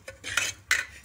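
Mung dal is stirred while roasting in a pan: two short bursts of a spoon scraping and clinking against the metal, close and fairly quiet, with brief pauses between strokes.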